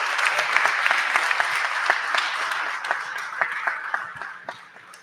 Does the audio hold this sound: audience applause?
yes